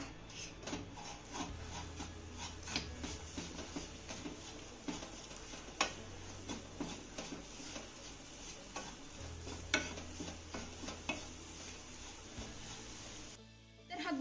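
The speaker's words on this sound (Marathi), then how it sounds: "आता हा गुळ ना चांगला मिक्स करून घेऊया" Jaggery is stirred into a grated coconut and wheat dough mixture in a pan, with continuous soft scraping and stirring strokes at a quiet level and no talking.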